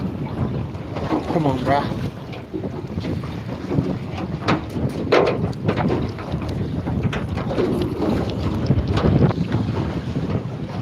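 Steady wind blowing on a small fishing boat out at sea, a continuous broadband rush with buffeting against the microphone throughout, with a voice speaking briefly over it.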